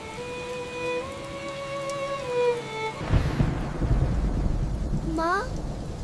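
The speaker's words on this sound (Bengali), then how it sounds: "বৃষ্টি এলেই টুপটাপ করে পানি পড়ত ঘরের ভেতর।" Cartoon sound effect of rain and thunder for a leaky-roofed village hut: a tonal jingle gives way to a loud rumbling burst and steady rain noise, with a quick rising chime near the end.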